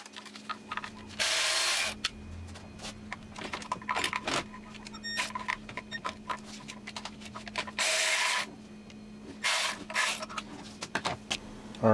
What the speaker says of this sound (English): we're going to go ahead and remove two E10 bolts that are holding this coolant